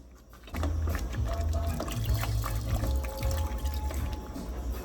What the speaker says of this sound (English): And I'm gonna add a little more water.